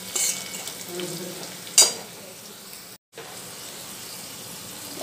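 Carrots fry in a pan for masala pasta with a soft, steady sizzle, broken by stirring clatter and a sharp scrape near the middle, followed by a brief dropout.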